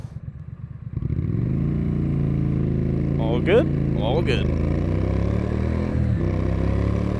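A 2023 Triumph Scrambler 900 Chrome Edition pulls away from a city red light, its engine note rising loud and close as it accelerates and shifts, with a short spoken exchange over the rumble at the start.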